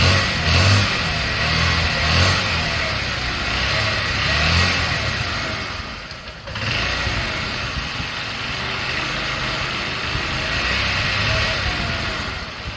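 A 2003 Honda Elite 80 (CH80) scooter engine runs steadily with the throttle held slightly open after sitting for years, a continuous buzzing drone with small swells and one brief dip midway.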